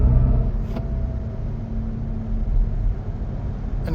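A Cupra Raval VZ Rebel accelerates hard, heard from inside as a steady, loud low engine and road rumble that swells slightly and holds throughout.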